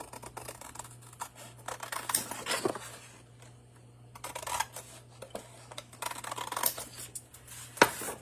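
Scissors snip through card paper in short close bursts of cutting and rustling, with quieter gaps between them and no talking.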